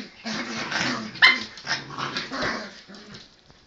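Puppies growling and yipping close by in playful scuffling, rough throaty growls with a brief sharp yip in the middle.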